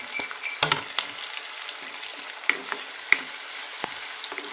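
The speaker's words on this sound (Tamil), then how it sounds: "கொஞ்சம் வெங்காயம் எல்லாம் நல்லா வதங்கி வரட்டும் இப்போ பூண்டு சேர்த்துக்கலாம்" Onion, curry leaves and garlic sauté in oil for a ridge gourd curry, a close, crackly sizzle punctuated by sharp spatula scrapes and clinks against the pan.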